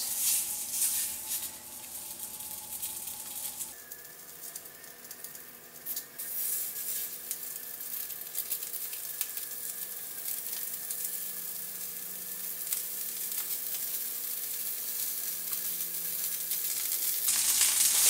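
Crumbled sausage, about a pound of links with the casings removed, browning in a hot pan, with a steady, even sizzle that swells slightly louder toward the end, alone without talk.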